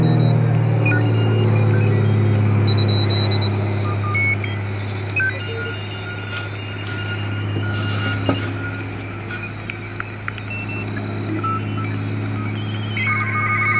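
Shortwave radio hiss on the 40-meter band's Morse code region, received on a homebrew receiver, with a dense band of hum and static, faint tones and beeps flickering through, steady throughout with no voices.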